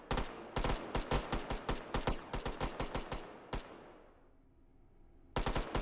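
Bots in the VR shooter Hot Dogs, Horseshoes & Hand Grenades fire rapid, loud volleys of shots at each other. The firing fades into a quiet gap, then a fresh burst erupts at the end.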